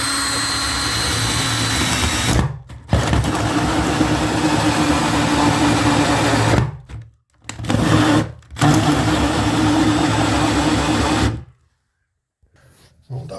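A power drill bores a hole for the air vent of a Chinese diesel heater, whirring loudly up close in long bursts broken by short pauses, then cutting off near the end.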